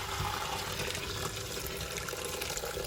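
Hot golden chicken stock poured through a strainer, a continuous rushing, splashing stream of liquid held at an even level throughout, close and fairly loud, with no talk.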